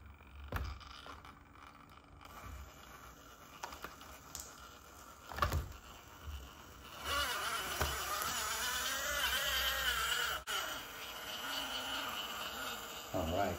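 A small SCX24 RC crawler with a brushless motor whines and buzzes as it creeps and loosens its tires, a thin high-pitched motor sound that rises and holds steadier in the second half, close to the mic with a few knocks.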